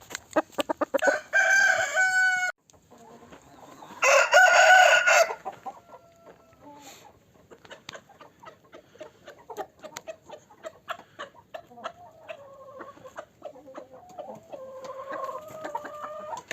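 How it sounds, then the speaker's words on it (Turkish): Chickens cluck and crow loudly in close bursts, with a gobbling guinea fowl call and steady clucking of a crowded flock in a coop throughout. "Hint tavuğu Akbey tayfanın oraya girdi"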